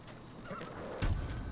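A white horse in the Ghost of Tsushima video game gives a brief whinny over hoofbeats, with a louder, closer burst of hooves and snorting near the end.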